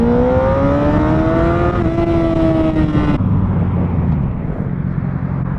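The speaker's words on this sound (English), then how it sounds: "I had to do the rev thing for the kids." Motorcycle engine revving up on a road, loud and close, with rising harmonic pitch sweeps for about three seconds before settling to a steadier idle rumble.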